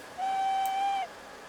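Steam whistle of an SDJR 7F locomotive in Train Sim Classic, a single steady toot just under a second long, clear and fairly loud over a quiet cab background.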